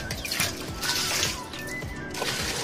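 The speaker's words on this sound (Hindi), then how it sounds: "पानी क्यों निकाल रही तू कुएं से?" Water splashing and pouring close by as it is drawn up from a village well, with sloshing bursts and intermittent splashes; a voice speaks faintly underneath.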